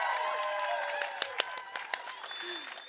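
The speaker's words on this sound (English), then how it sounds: "So now, the big round of applause for Reneltta Arluk and Taalrumiq" A studio audience at a live Arctic variety show applauds for arriving guests, a soft, steady wash of clapping with a few sharper individual claps standing out, and a voice faintly heard beneath it.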